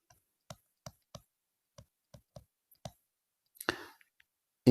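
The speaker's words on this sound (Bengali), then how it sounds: "এই জায়গাতে লিখে দিচ্ছি, হ্যাঁ।" Pen writing answers on an exam test paper page: a sparse series of small clicks and ticks at close range, quiet and alone, ending in a brief scratchy rustle.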